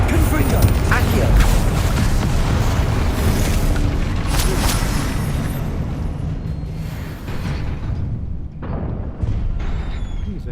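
Spell blasts from the Confringo fire curse in Hogwarts Legacy, a run of booming, thudding impacts over busy game noise, loud and continuous with scattered heavier hits throughout.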